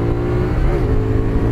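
Close and loud, a CFMOTO 450 SS motorcycle pulls hard under acceleration on a public road, the engine's buzzing tone sweeping briefly as it shifts through the revs.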